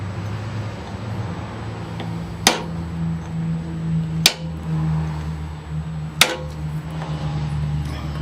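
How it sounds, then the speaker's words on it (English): A screwdriver laid on a part of a Briggs & Stratton 8 hp tiller engine is struck three times, each a sharp, close metallic whack spaced a couple of seconds apart over a low steady hum. "Give that a whack."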